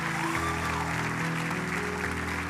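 A church congregation applauding during a worship service, a steady wash of clapping over sustained organ or keyboard tones that shift chords underneath.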